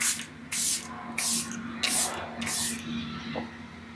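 Several quick bursts from a makeup setting spray bottle, hissing mists repeated about five times in an uneven rhythm, close by and fairly quiet.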